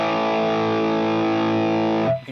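A distorted electric guitar drive tone from an Axe Fx sustains as one thick held chord, loud and close, then cuts off abruptly near the end.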